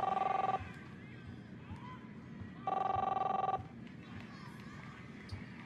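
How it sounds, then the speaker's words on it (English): A telephone rings in the video game Captain Spirit, two clear electronic ring bursts separated by a pause, loud over a faint background hum. "answer the phone,"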